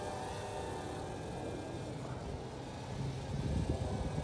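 An Eachine E61W mini drone flying indoors gives a steady, close buzzing whine of small propellers that swells slightly louder toward the end.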